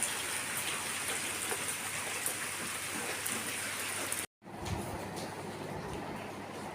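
Heavy rain falls steadily with a constant hiss of drops, broken by a brief cut to near silence before the downpour resumes.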